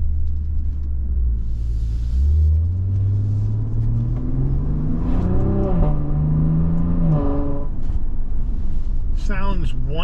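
2023 Maserati Levante Modena with its twin-turbo V6 accelerating hard and rising in pitch, the ZF transmission snapping through quick upshifts. The engine is loud and close, with someone speaking over part of it.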